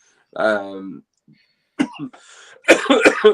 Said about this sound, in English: I'm trying to speak and not cough at the same time.